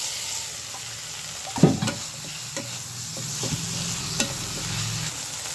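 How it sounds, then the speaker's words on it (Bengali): Shrimp frying in a pan of spiced masala with cumin paste and coriander powder, a steady sizzle under several scraping stirs, the strongest near the middle. No one speaks. "কষানোর মধ্যে চিংড়ি মাছগুলো দিয়ে দেবো।"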